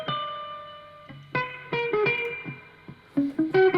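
A lead electric guitar line played through effects units and distortion, with sustained ringing notes and sharp picked attacks that come in bursts, building toward the end, loud and alone with no talking.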